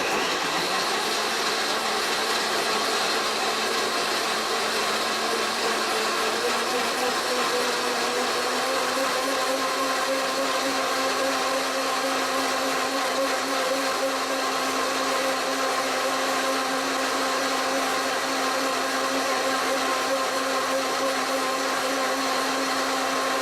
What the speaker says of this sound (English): we have a blend tech, which we love. And we just turn it on and then to the blend cycle till everything is smooth